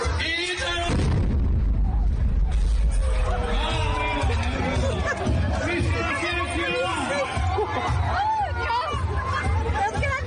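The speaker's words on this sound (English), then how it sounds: "Suddenly, there's a violent explosion." Barrels filled with liquid nitrogen burst in a sudden loud, deep boom early on. Afterward a crowd chatters and exclaims in shock, and a narrator keeps talking over the commotion.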